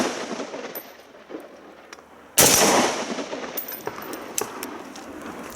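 An L1A1 SLR rifle fires one loud, sharp shot outdoors after a magazine change and cocking, preceded by metallic clicks and handling noise and followed by a decaying echo with scattered clinks.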